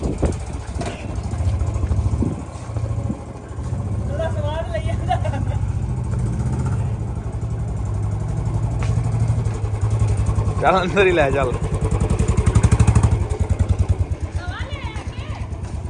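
A 2018-model Bullet motorcycle with a long bottle exhaust idles with a steady low thump throughout, its engine running under frequent nearby talk.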